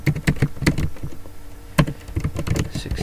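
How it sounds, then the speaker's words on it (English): Fast typing on a computer keyboard, with irregular clusters of crisp key taps heard up close and no talking. "So type VMware download workstation 16"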